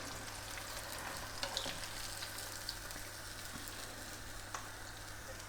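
Salt and pepper prawns fry in hot oil with a steady, close crackling sizzle that holds throughout, broken by occasional small pops and spits.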